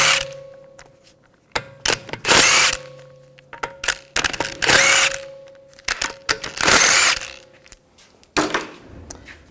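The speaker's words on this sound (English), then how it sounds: "Using a 17mm socket, we're going to take the lug bolts out." Power impact tool with a 17mm socket removing lug bolts from a Volkswagen Jetta wheel, loud short bursts of rattling hammering repeated several times with pauses between them, close by.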